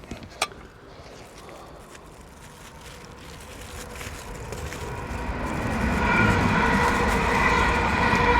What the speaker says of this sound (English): Sorry, trains keep going by.